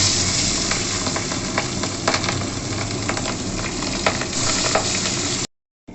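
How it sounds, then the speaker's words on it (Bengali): Tangra fish hits hot oil with a loud, dense, continuous sizzle and crackle that holds steady for several seconds, then stops abruptly near the end; no one speaks. "তেলটা গরম হয়ে গেছে, এবার আমি ট্যাংরা মাছ ছেড়ে"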